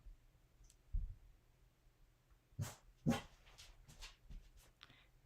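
A dog gives a few short barks and whimpers indoors, wanting to be let outside, with a couple of sharp clicks among faint room noise.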